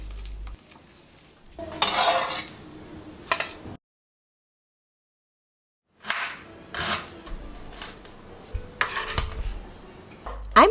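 Utensils clink and scrape against pans while anda bhurji is stirred, in short bursts of clatter separated by a few seconds of silence.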